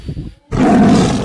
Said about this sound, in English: Oh, lion is roaring.